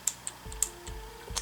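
Several sharp key clicks from a Logitech G710 mechanical keyboard, struck one at a time at an uneven pace, close and crisp with brief gaps between them.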